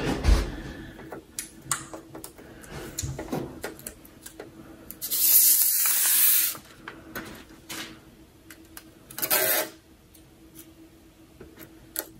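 Heat applied to adhesive during a repair on an early 2009 15-inch MacBook Pro comes through as a hissing blast of air that runs for about a second, then a shorter second burst, amid scattered clicks and handling noises.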